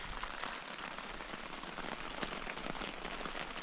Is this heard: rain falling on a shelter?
yes